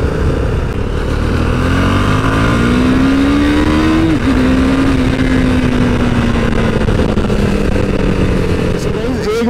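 A KTM Duke 390 motorcycle is ridden at speed, its engine droning loudly and continuously with a rising rev that drops off midway, then a lower steady pitch, wind noise throughout.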